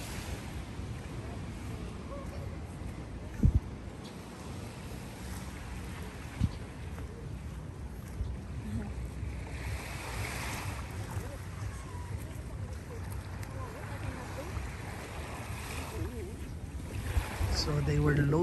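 Steady broadband wash of sea and wind at Tumon Bay, Guam, with waves rolling continuously and a single sharp knock partway through, no voices.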